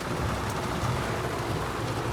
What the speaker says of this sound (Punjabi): ਮੀਂਹ ਨੇ ਅੱਜ ਦੁਬਾਰਾ ਕਰਾਤੀ ਧੰਨ ਧੰਨ